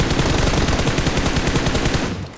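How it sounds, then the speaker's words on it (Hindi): Rapid automatic gunfire in the video game BGMI, a dense, loud stream of rattling shots with no pause that fades slightly at the end. "लेकिन अभी ऊपर से फिर से गोली चलने लगती है।"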